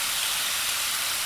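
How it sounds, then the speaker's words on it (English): Mango habanero sauce spooned onto chicken wings sizzles and steams on a hot 22-inch Blackstone griddle, a steady bright hiss with no talking. "You can hear that steam coming off and that sizzle"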